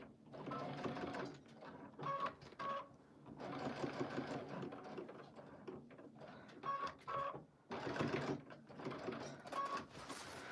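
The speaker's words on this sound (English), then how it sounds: "I am going to try to lock in these stitches, but also stitch this down." A sewing machine stitches down the binding on a quilt, running in steady bursts of rapid stitching with brief pauses between runs, fairly quiet and close.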